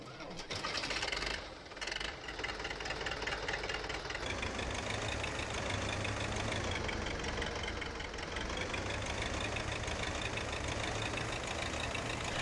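Tractor engine in Farming Simulator 2015, a continuous rough, knocking mid-pitched drone held at steady loudness, with a brief dip early on and someone talking over it.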